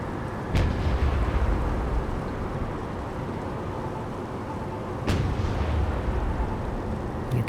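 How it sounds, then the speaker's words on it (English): A 76mm naval gun firing in the Naval War Arctic Circle video game, two loud booming shots several seconds apart over a continuous low rumble. "The 76mm gun can now start to engage the missiles as well."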